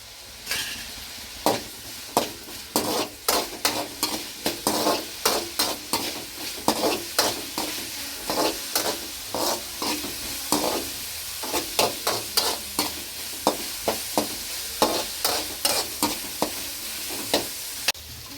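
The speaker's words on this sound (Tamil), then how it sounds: "தக்காளி நல்லா வதங்கட்டும்." Tomatoes sauté in a pan with turmeric and salt, a continuous sizzle punctuated by rhythmic, repeated scrapes and taps of a spatula stirring close by.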